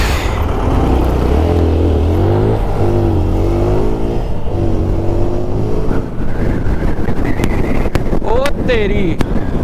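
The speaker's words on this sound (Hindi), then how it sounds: "हवा का झोंके थे जबरदस्त लग रहे हैं ना, पूरी बाइक डगमगा गई" Strong gusts of wind roar and buffet a motorbike on a high mountain road in Spiti, drowning a low engine drone in continuous loud rushing noise for nearly ten seconds.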